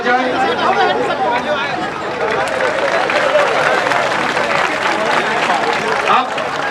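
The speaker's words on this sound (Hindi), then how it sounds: "कृपया जोरदार तालियों के साथ स्वागत किया जाए।" A large crowd at a Jahanabad rally applauds the arriving Chief Minister, scattered clapping buried under loud chatter and a hubbub of many voices throughout.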